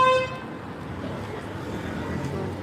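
A car horn gives one short, sharp toot on a busy street in Rome, then fades into a steady wash of passing traffic and road noise.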